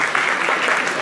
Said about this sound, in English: let's give them a clap for that